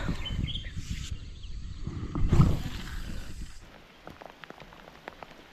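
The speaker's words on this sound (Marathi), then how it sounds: "आला पाऊस" Rain falls at an outdoor fishing spot, a soft patter of drops with faint scattered ticks over a low background rumble, fairly quiet and with no talk.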